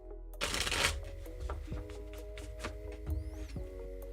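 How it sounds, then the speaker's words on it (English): Tarot cards shuffled quickly during a live reading, a dense burst of riffling followed by softer, intermittent card slaps and slides, close and fairly quiet with no talk. "Quick shuffle. Quick shuffle."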